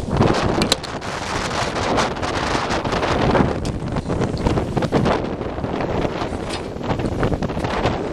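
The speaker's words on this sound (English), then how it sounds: "There was one of those gusts, folks." A strong gust of wind roars across the microphone, loud and buffeting throughout, with a rough, rushing texture and no voices.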